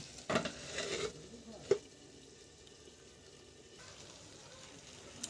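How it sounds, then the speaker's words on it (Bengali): Chicken curry being stirred in a pan, with faint sizzling and scraping of a spoon against the pan, a louder clatter near the start and a sharp knock partway through, then quieter low sizzle. "মাংসটাকে আবার ঢাকা খুলে ভালোভাবে নেড়ে নেব।"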